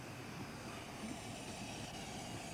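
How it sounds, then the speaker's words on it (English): The Dr. Syn steam locomotive and its train approach New Romney station, a steady low rumble of wheels and carriages rolling on the line, moderately distant and continuous without a clear peak. "Dr. Sin, on a return working from Hythe, approaches New Romney station."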